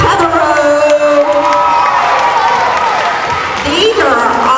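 Loud crowd applause and cheering at an elementary school award ceremony, sustained clapping with whoops and children's shouts filling the room, voices mixed in throughout.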